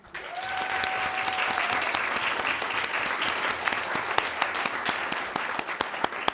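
Audience in a Board of Education meeting gives a round of applause for award finalists, a dense burst of clapping that thins into scattered individual claps toward the end.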